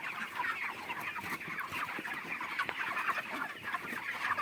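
About five thousand broiler chickens in a poultry shed, thirty-six days old, fill the air with a constant dense clucking and chattering, loud and uninterrupted, with no talk.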